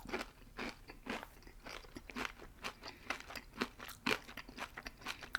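Close, quiet crunching and chewing of crunchy Chester's fried chicken with irregular crisp bites, no talking.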